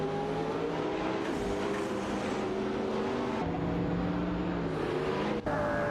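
Racing cars in a video game howl steadily at high revs, layered engine tones stepping down and back up through gear shifts, with a brief dropout near the end.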